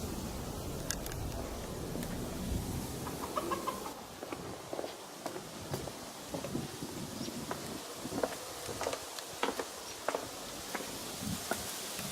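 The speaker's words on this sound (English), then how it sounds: "Chickens and pigeons cohabitating." Chickens and pigeons sharing an outdoor spot near the Dormition Abbey on Mount Zion, with soft scattered clucks and clicks against wind and footsteps, fairly faint and intermittent with no talk.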